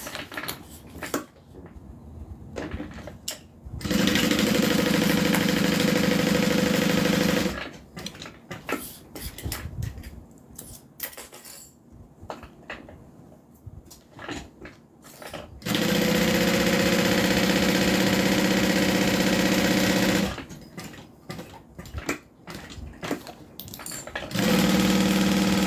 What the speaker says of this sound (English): I'm going to sew it down, across, and then up.